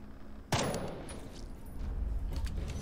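A single sharp gunshot in the video game Jagged Alliance 3, a sudden loud crack followed by a ringing decay and low rumbling game ambience.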